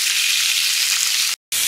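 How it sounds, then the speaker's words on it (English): Rib eye steaks sizzle loudly in a hot pan, a dense, steady frying hiss that fills the scene, broken by a brief silent gap near the end before the sizzle resumes. "I know you probably can't hear me because of the sizzling going on"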